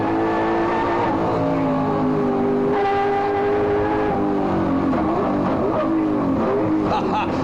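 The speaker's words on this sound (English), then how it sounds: "Listen to the engine of this thing work." A loud V8 race car engine roars continuously during a 1992 street race in Wellington, its pitch rising and falling through gear changes as it drives nearby.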